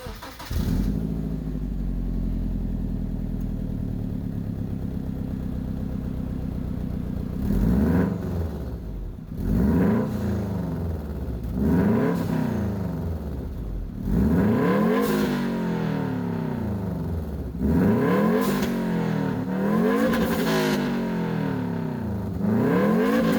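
A Subaru Legacy GT with a swapped EJ20X turbo flat-four idles with a low burble, then is revved repeatedly in sharp rising and falling blips, each one loud and close.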